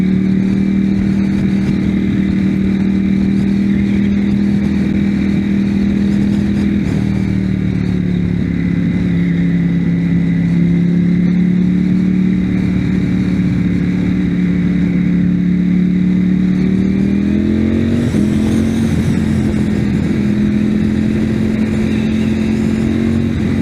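A Ducati Panigale V4S motorcycle engine runs loud and close, a steady deep throb with the revs rising and dipping through several swells, no voices.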